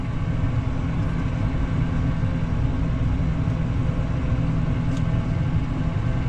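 A Case Optum 270 tractor working a field after maize with a Bednar implement gives a steady, loud, continuous low engine drone, running evenly throughout without talk.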